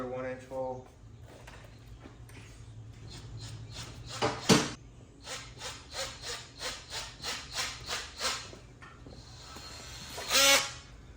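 A one-inch hole being bored for a bathroom remodel, heard as a run of even, rasping cutting strokes that builds to a louder burst near the end. The tool sounds close and carries on with no voices over it.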